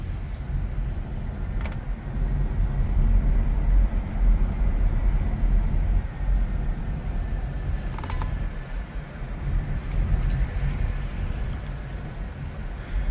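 Steady low road rumble and muted tire hum inside a nearly three-year-old Kia Niro EV with the Wave Light interior package while driving, broadband and even throughout, with a few faint clicks but no speech.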